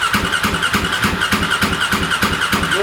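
A stored motorcycle's electric starter cranking the engine, which is trying to fire, a loud, rapid, evenly pulsing whirr that repeats without a break for the whole stretch, close up and without speech.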